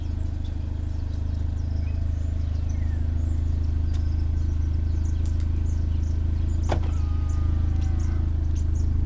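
A Ford Focus Mk4 engine idles after a remote start from a phone app, a steady low hum heard nearby with a few faint chirps and clicks over it and no talk.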